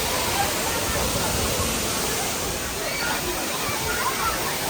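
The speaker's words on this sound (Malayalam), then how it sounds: "ഇതാണ് വെള്ളച്ചാട്ടം" Constant broadband roar of the Areeckal waterfall in Ernakulam, steady and loud throughout with no breaks.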